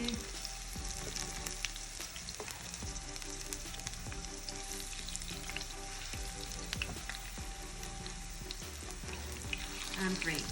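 Food fries in a pan with a steady, close sizzle and crackle throughout, with occasional soft clicks and scrapes from handling.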